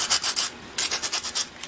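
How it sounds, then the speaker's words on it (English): Rusty magneto on a Weed Eater BC24W trimmer being rubbed with 100 grit sandpaper, close-up rhythmic back-and-forth rasping strokes in two quick clusters separated by a brief pause. "So I'm going to sand the magneto here."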